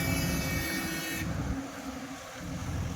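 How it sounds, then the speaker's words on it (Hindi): Heavy road traffic on a highway toward Madurai, a dense steady roar of passing vehicles with a continuous low rumble and broadband hiss, loud and unbroken throughout. "इस रोड पे भी काफ़ी हैवी ट्रैफिक है।"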